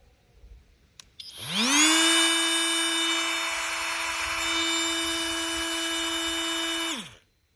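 A Flex oscillating multitool, its power setting turned all the way up, spins up and runs at full speed with a steady high-pitched whine, holding for several seconds before winding down.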